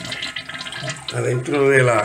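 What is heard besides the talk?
toilet tank filling and draining water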